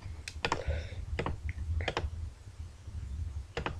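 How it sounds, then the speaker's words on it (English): A folder name being typed on a computer keyboard, with scattered close key clicks in small clusters and pauses between them. "new folder Fallout 4 GB. I'm gonna call it and then just click OK."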